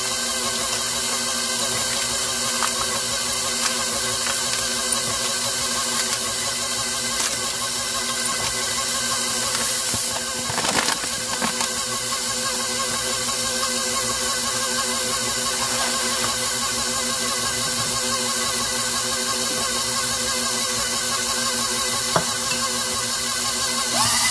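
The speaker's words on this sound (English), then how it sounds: "Then we're going to blend that together. Get that mixed really well." An electric mixer blends sugar and butter for a sour cream pound cake batter, giving a steady, loud motor whir that runs unbroken for the whole stretch with no talking.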